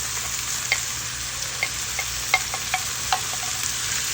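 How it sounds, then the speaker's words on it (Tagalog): Onions and tomatoes sauté in a frying pan with a steady close sizzle, punctuated by a string of short spatula stirs and scrapes; no one talks. "Then, isutay-sutay lang natin hanggang sa madurog yung ating kamatis."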